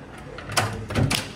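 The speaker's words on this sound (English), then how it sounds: "I'm gonna open the door." A door opened indoors at home during a birthday get-together: a soft latch click followed by two short bumps and a rustle of movement, close by and fairly quiet, with no talking.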